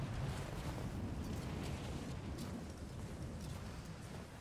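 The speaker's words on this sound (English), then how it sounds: "It's a lot of wind." Cold mountain wind in Rise of the Tomb Raider, a low, steady roaring gust that rumbles and swells softly, faint and continuous without speech.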